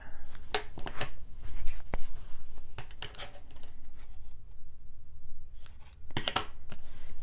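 Scissors snip and trim paper for a handmade Christmas mini album, a run of crisp close cuts with rustling paper handling between them and brief pauses.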